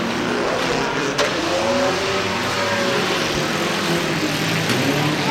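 Race cars at a track, a dense continuous engine roar holding steady for the whole stretch, broad and loud without breaks, with no talk.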